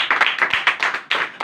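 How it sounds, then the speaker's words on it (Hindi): A congregation at a church worship service claps loudly together, with quick bursts of hand claps repeating in an uneven rhythm, close and full. "यीशु के लिए एक बार जोरदार तालियां।"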